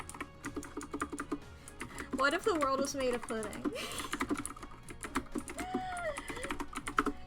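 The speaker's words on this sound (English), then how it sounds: "My loud keyboard." A loud computer keyboard clatters in fast, continuous bursts of keystrokes close to the microphone while someone talks over it.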